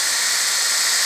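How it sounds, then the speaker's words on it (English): A drill bit boring through the steel rollover protection frame of a tractor, a steady high-pitched whine that holds loud and even for about a second with no voices over it. "So let me get that hole drilled in there and we'll see how we like it."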